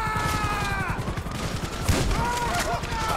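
Shotgun blasts in GTA 5 with the Pull Your Gunz Out mod, a dense volley of loud gunfire cracks over a steady low rumble, with a heavier blast near the end and faint tonal game sounds.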